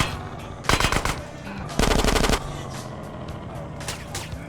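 Two loud bursts of rapid machine gun fire in GTA San Andreas, each lasting about half a second, over a steady game-like background rumble with fainter shots later.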